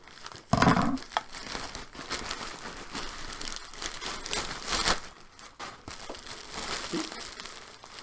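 A plastic bag holding ComfoFeet shoes crinkles and rustles loudly at close range as the package is opened, with irregular bursts of crumpling and tearing-like crackles continuing for several seconds.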